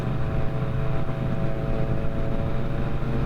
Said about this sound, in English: I'm gonna be hearing that exhaust in my dreams